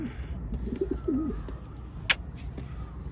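Pigeons coo softly in a short low rolling call near the start, with faint chirps and background noise around them and no talk.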